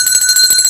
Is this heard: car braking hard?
no